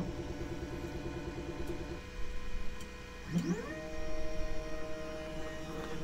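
A Geeetech Giantarm D2 3D printer runs its print-bed auto-leveling, with a steady stepper whine and hum, a rising motor sweep in the middle, and then a sustained higher tone, close and moderately quiet.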